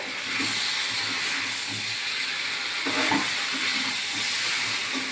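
Fried pointed gourd is being turned through sizzling spice masala, a steady close hiss of frying oil running throughout with a few soft scraping stirs around the middle.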